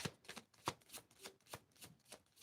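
A deck of playing cards being shuffled by hand, a series of quick riffling bursts repeating in a loose rhythm, close and fairly quiet with no talking.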